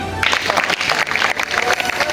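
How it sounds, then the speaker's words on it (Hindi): Clapping breaks out for a child at a children's first-aid camp, dense and sustained, with a few voices mixed into the crowd's applause. "बहुत काव्या के लिए ताली"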